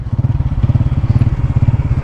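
A Honda CG 125 SE motorcycle rides an unpaved, rough mountain road beyond the Margalla Hills, its engine thrumming close and loud in a steady, rapid pulsing rhythm with faint clatter from the bumpy ground and no talk.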